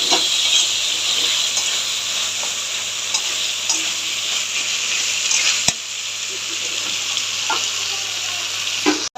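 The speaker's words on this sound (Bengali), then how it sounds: "এবার ভালো করে এটা কষাবো" Masala with turmeric and salt is stir-fried in a pan for a Bombay duck (lote fish) curry. A constant bright sizzle and hiss run under intermittent scraping stirs, with one sharp knock partway through.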